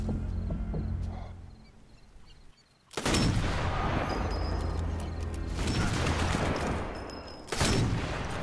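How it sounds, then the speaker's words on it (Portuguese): Rifle gunfire in the video game Sniper Elite 4: two loud, sharp shots several seconds apart, each followed by a long rumbling echo over quiet background ambience, with no voices. "O cara tomou tiro de rifle e nem caiu"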